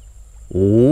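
Spotted doves near rice fields in a flooded paddy area, a single loud, close, low harmonic coo rising in the second half after quiet ambience.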